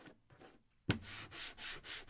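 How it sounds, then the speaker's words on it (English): Sandpaper rubbing a small wooden craft-kit bucket in short, quiet back-and-forth strokes, each scrape rising and falling in a steady rhythm after one sharp knock. "Let's sand our bucket."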